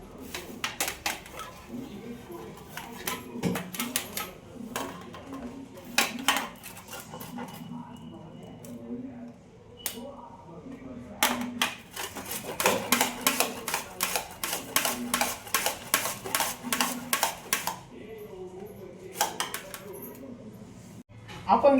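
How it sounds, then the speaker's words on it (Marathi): Carrots are grated by hand, heard as bursts of quick, rhythmic rasping strokes, close and fairly faint, with pauses between runs. "आता आपण गाजर किसून घेऊया"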